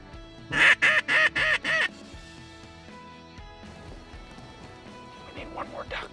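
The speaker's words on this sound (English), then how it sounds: "Mallards, I can hear their wings right over the top of my head" Mallard ducks calling close by with a run of about five loud, rapid quacks, then quieter scattered calls and faint wing noise over low background sound.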